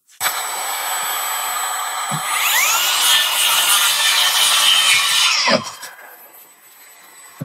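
A Bosch 18V cordless circular saw cuts a groove in wood with a vacuum running, a loud steady whine of blade and extraction that rises mid-cut, then stops, leaving the vacuum hum fading.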